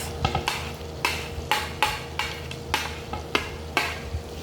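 Red and green bell pepper, carrot and leek stirred together in a pan, with a quick, regular series of scraping, rustling strokes over a faint sizzle and no voices.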